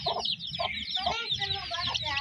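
Continuous high peeping of many chicks with a hen's low clucks breaking through, close and steady.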